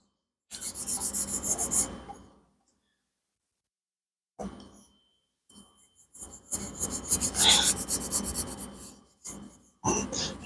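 Coconut oil rubbed by hand onto a wooden kitchen tool such as a chip clip or toast tongs, producing close, dry rasping strokes in several bursts separated by silent gaps.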